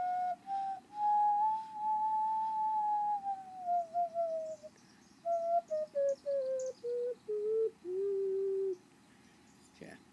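A ceramic ocarina plays a scale of clear, pure whistling notes, first held and gliding, then stepping downward in short separate tones, close and fairly soft, with a faint clunk at the end.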